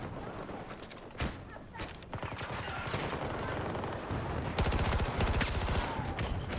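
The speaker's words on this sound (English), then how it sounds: "Just shooting at AI right now." Dense gunfire from the video game Battlefield 6, rapid automatic bursts and sharp shots rattling almost continuously, loud and close with echoing distant fire behind.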